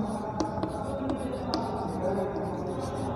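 Chalk scratching out a formula on a classroom board during a maths lesson, a run of short taps and scrapes under a steady quiet room hum.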